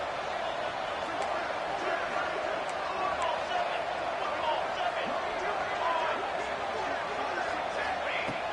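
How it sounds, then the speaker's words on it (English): Stadium crowd roaring in a college football video game during a two-point conversion attempt for the win, a dense, steady wall of cheering and babble sustained throughout at a loud, even level. "You go for 2 and the win, and the crowd roaring,"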